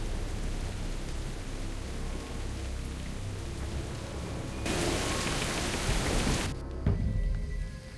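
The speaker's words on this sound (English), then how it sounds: "At least, the rain's easing up." Steady rain hisses across a wet outdoor island scene in Jurassic Park: The Game, a dense broadband wash that swells louder for a couple of seconds near the end before easing back, with no voices.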